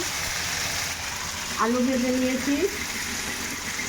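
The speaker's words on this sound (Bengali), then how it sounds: "আমি কড়াইতে তেল দিয়ে আলু ভেজে নিয়েছি" Constant sizzling hiss of potatoes frying in hot oil in a wok, steady from start to finish, with a brief tonal voice rising over it midway.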